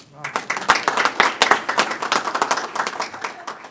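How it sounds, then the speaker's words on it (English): A short burst of audience applause at a community event, loud and close with individual claps distinct and rhythmic, tapering slightly toward the end. "So if you give her a round of applause."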